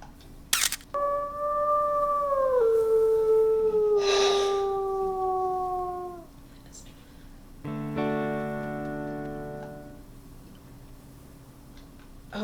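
In the WolfQuest video game, a wolf pup gives a long, wavering howl that slides downward, then a second, richer harmonic howl follows after a pause, with soft game ambience between them.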